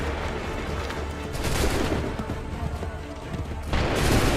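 Musket volleys crackle and boom in Assassin's Creed 3, a dense, loud barrage of overlapping shots that rolls on without pause, with shouted commands mixed in.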